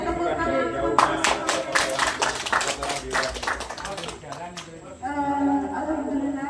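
Audience applause after a farming demonstration of photosynthetic bacteria and organic liquid fertilizer: a burst of scattered hand claps from a small group that builds, then fades after a few seconds, with speech around it.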